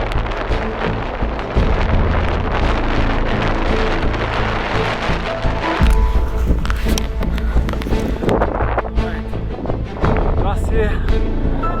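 Strong, roaring wind buffets the summit of the Hinter Fiescherhorn, a 4025 m Alpine peak in arctic conditions, loud and continuous with heavy low rumble and gusty surges throughout, with voices talking underneath.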